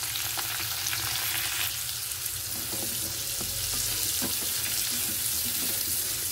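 Vegetables frying with salt and turmeric while being stirred in a pan, a dense continuous sizzle close by with scraping strokes of the spoon through it.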